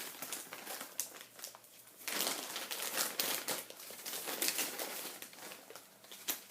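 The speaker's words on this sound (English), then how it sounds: "Let's see if I can just cut out those" Paper is handled and cut to free words for a scrapbook page, heard as close crinkling, rustling and snipping that runs almost continuously and grows louder partway through.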